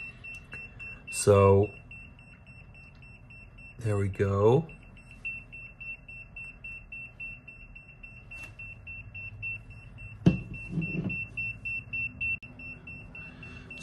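A steady high electronic tone from an ERICKHILL EMF meter runs throughout beneath someone talking in short bursts, with a couple of brief clicks near the end.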